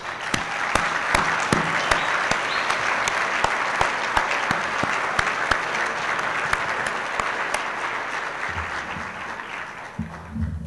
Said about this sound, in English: give yourselves a well-deserved round of applause.